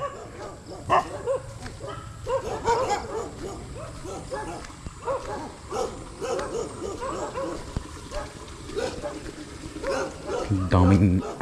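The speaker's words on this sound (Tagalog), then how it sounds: "Daming aso." Several dogs bark and yip repeatedly at a rural fish farm, overlapping outbursts at moderate distance, mixed with people talking nearby.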